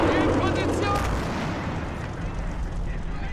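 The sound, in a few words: anti-tank gun firing in a war video game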